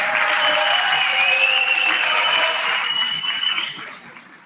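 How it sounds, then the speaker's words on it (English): A crowd applauds steadily, dense clapping at full strength that tapers off toward the end. "Can we give a round of applause to the program director?"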